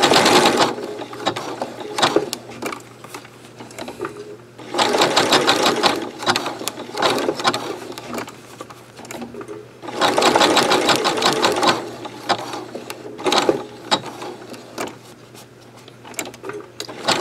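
A sewing machine stitches rope into a mosaic rope bowl, with bursts of fast, rattling mechanical stitching that start and stop repeatedly, loud and close, separated by quieter handling sounds.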